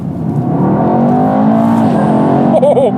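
A 2019 Mercedes E63s AMG in Sport Plus mode accelerates at full throttle on a straight road, its engine note climbing steadily from inside the cabin, loud and continuous, with a brief voice at the end.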